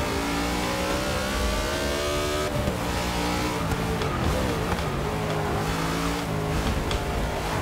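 NASCAR stock cars racing in Forza Motorsport 6, a loud, continuous engine roar with several cars close together, pitch climbing and dropping through gear shifts and throttle changes.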